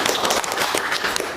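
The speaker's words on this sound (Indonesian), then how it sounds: "tepuk tangan untuk Widya dan kelompok 1" Applause for Widya and student group 1 after their classroom presentation, a dense crackle of many hands clapping steadily and fairly loud throughout.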